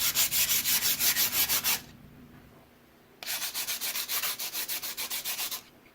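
A clean rock rubbed hard and fast against an abrasive surface to polish it, giving steady rasping back-and-forth strokes up close, a pause of over a second, then another run of strokes.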